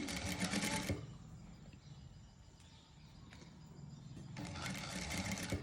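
A sewing machine stitches gathered, folded fabric for a princess line frock, giving two bursts of fast, close whirring needle chatter, at the start and at the end, with a quieter stretch of room noise between them.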